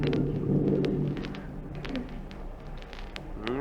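Thunder sound effect in an old radio comedy show, a deep rolling rumble that swells early and then fades to a lower grumble.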